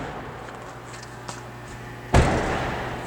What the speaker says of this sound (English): now we can close that door, Kyle, and then we'll go to the front doors.